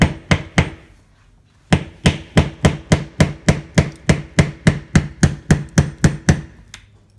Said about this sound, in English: So I just put it in the grout right here and just use a hammer.